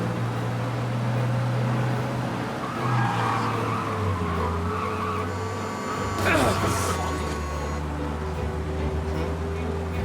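A car engine roars and tires squeal in a brief skid partway through a police chase in Mafia: Definitive Edition, the driving noise steady and close throughout.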